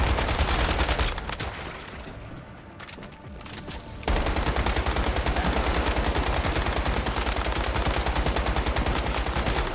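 Rapid gunfire in the survival shooter Once Human, fired at a glutton boss's weak spots. After a quieter stretch, steady automatic shooting runs without a break from about four seconds on, loud and close.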